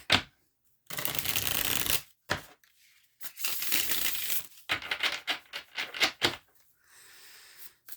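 A stiff tarot deck being shuffled, giving several bursts of riffling and snapping card noise separated by short pauses, close and fairly loud with no talking.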